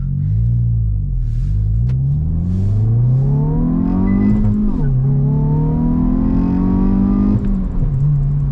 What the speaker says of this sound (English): get it up to 60 and show you how good these brakes actually are